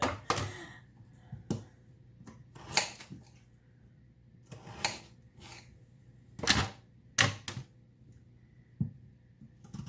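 A knife cuts a potato into big chunks on a board: a series of sharp, irregular taps and clicks spread across several seconds, close and fairly quiet, with no talking.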